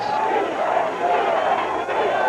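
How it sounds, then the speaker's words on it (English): A stadium crowd at a 1988 Ithaca versus Wagner college football game chants defense, a loud, continuous roar of many voices filling the whole stretch without pause. "Crowd chanting defense."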